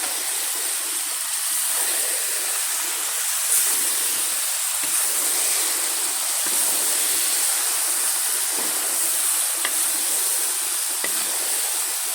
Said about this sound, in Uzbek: qalampir, bolgarskiylarni qovuraman.